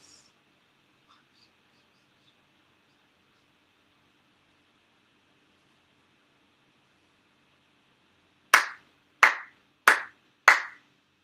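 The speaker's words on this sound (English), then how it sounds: "4 sincere claps." Four ceremonial hand claps ring out at a Konko Kyo shrine prayer during the monthly Tenchi Kane no Kami ceremony, evenly spaced, crisp and loud after a long near-silent pause.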